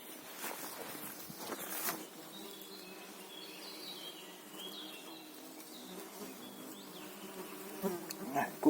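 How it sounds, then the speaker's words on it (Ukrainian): Faint mosquito buzzing drones steadily throughout, with occasional thin whines drifting in and out, alone in a quiet outdoor setting on a forest path after rain. "комарі заважають."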